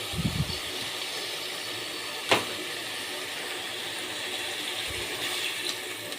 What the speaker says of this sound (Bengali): ফুলকপিগুলো দিয়ে দিচ্ছি।